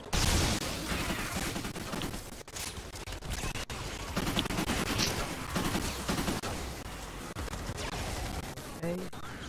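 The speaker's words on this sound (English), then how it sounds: "Let me use my sniper." Sniper rifle shots in Fortnite Save the World during a Plankerton storm shield defence, cracking out amid a dense, continuous wash of other gunfire and battle noise with a few sharp standout reports.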